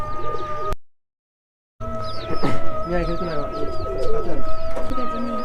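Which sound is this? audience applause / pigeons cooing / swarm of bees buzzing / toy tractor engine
pigeons cooing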